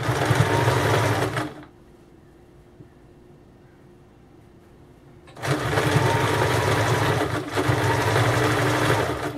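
A sewing machine stitching piping onto a blouse with a normal presser foot runs in a loud, close, steady whir, stops for several seconds of near silence, then starts again and keeps going.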